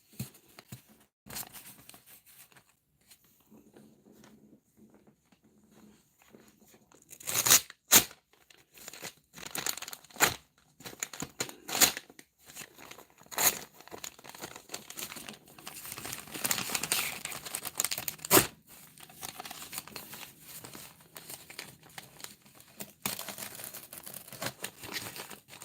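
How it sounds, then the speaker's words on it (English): Paper wrapping on an original 1964 bank-wrapped roll of pennies being cut and torn with a razor, giving a run of close crinkling, tearing and sharp crunchy snaps that grow busier and louder in the second half. "I have a razor. Let me cut this smaller."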